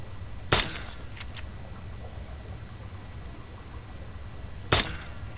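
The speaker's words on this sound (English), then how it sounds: "Think you can take care of that with your BB gun? Just aim and shoot." Two sharp BB gun shots fired at a rad roach in Fallout New Vegas, crisp isolated snaps about four seconds apart over a low steady background hum.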